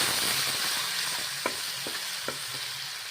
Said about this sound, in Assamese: পিঁয়াজৰ পেষ্টটো দি এনেকৈ লৰাই দিম।